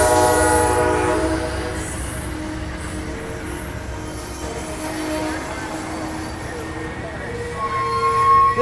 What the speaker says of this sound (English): California Zephyr number 5 coming from Chicago.